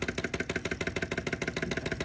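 Close, steady clicking chug of a PM Research hot air Stirling engine running, evenly paced beats repeating several times a second with no voices.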